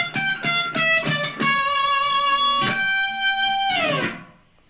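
Electric guitar solo phrase: a few quick picked notes, then long sustained bent notes ringing loud and close, ending in a brief tail that fades out.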